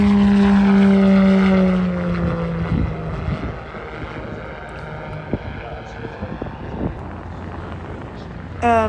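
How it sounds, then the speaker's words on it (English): A propeller airplane takes off at Oshkosh AirVenture, its engine droning loudly at first with a falling pitch, then fading into the distance while a voice talks over the crowd. "And here it is taking off."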